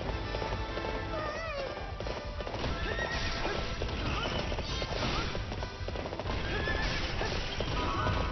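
Galloping horse hooves clip-clop steadily in the video game Hyrule Warriors, with whinnies, battle clashes and game music layered over a dense, constant mix.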